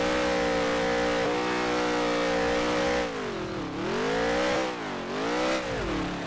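A race car engine revs loudly in the NASCAR Heat 3 video game, first a steady high-pitched drone, then dropping and climbing in pitch twice as the throttle eases and opens again.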